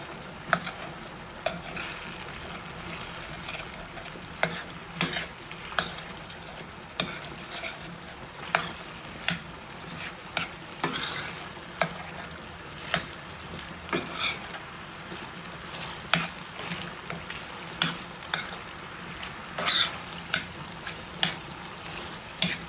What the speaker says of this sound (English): now I'm going to add a little tomato paste. Let it dilute in the juices that is in the pot.